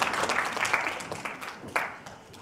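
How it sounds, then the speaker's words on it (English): Applause from a conference audience, a dense burst of clapping that starts loud and gradually fades over a couple of seconds. "Let's give all the scholars and contributors a big round of applause."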